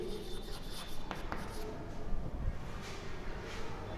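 Marker or chalk writing on a board during a maths lesson, soft scratchy strokes with faint rubbing, fairly quiet and steady with no one talking.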